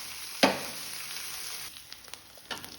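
Green chilli and ginger tempering hitting hot oil, a sharp sizzling burst that quickly settles into a soft, steady fizzle with a few small crackles, close and alone.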